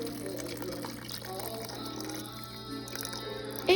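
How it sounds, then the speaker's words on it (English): Low sodium broth pouring into a pot of pinto beans, a short steady gush of liquid with a faint splash at the end, fairly close and alone. "so I'm gonna put my broth in"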